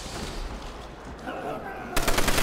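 A PTRS rifle fires in Call of Duty: World at War Zombies on the Nacht der Untoten map, loud sharp shots in quick succession near the end after a stretch of murmuring game noise.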